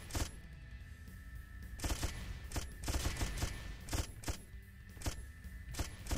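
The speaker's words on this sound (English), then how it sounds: "You're pretty good at shooting the rockets down." Rapid bursts of video game gunfire blast away at incoming rockets in a shooting minigame, loud clustered volleys repeating in short rhythmic waves.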